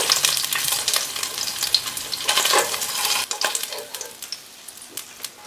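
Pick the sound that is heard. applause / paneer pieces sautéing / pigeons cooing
paneer pieces sautéing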